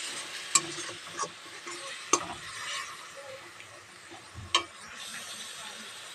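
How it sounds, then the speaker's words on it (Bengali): Taro curry with a little added water is stirred in a pan, a soft simmering sizzle under a few sharp spoon clanks against the metal, close and fairly quiet. "আমি এবার সামান্য একটু জল দিয়ে দেব। এটা ভালো করে এইভাবে নেড়ে দেব।"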